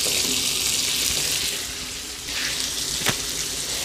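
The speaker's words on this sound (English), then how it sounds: "We're going to take our potatoes and we're going to drop them into the pan." Potatoes frying in about a tablespoon of butter in a pan for Bahamian stew fish, giving a steady broad hiss that eases slightly partway through, with one brief clatter near the end.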